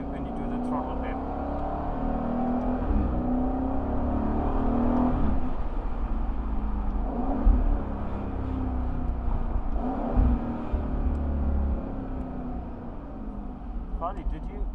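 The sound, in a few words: 2021 Aston Martin Vantage Roadster engine revving on throttle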